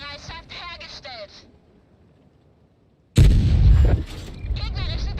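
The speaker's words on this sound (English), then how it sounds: "Somebody's shooting at us." Tank cannon fire in World of Tanks: one loud, close boom with a rumbling tail, preceded by chirpy game interface tones and followed by more game sounds and a voice speaking.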